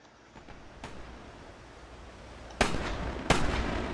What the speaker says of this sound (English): Even the batteries on the carrier are firing.